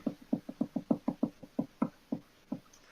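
A rapid, steady series of about a dozen sharp knocks, close and fairly loud, each a short hollow thud with no voices over it.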